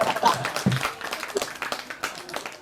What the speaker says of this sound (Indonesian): tepuk tangan dulu untuk nahu kilat